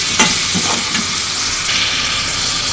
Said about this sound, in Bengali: আমার রসুন আদা কষিয়ে আসছে।